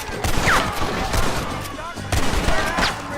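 Gunfire crackles in a busy Gears of War video game battle, with dense overlapping shots and bursts rattling across the whole stretch, loud and close, with game sound effects and a voice mixed in.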